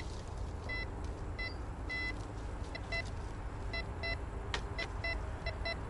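A metal detector gives short repeated electronic beeps while someone digs, the brief tones recurring irregularly over a low outdoor background rumble.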